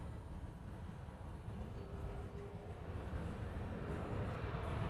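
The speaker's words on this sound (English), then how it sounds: "This Southwest here is coming in from Kailua Kona." A Southwest airliner arriving at Honolulu airport on a flight from Kailua Kona, heard as a steady, broadband jet roar with deep rumble that holds an even, moderate level throughout, with no voices over it.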